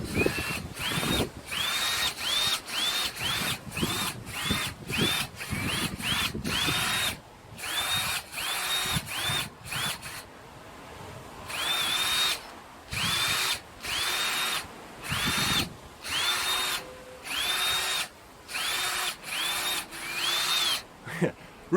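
Power drill whirring in repeated short bursts with brief pauses between them, close and fairly loud, outdoors on an allotment, with some speech mixed in.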